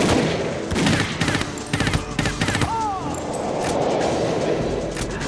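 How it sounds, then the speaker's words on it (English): Automatic gunfire sprays in rapid bursts in the video game 007: The World Is Not Enough, loud clattering volleys over a busy game soundscape, with no one talking over it. "Oh, there's some people trying to shoot me. This gun kind of just sprays everywhere."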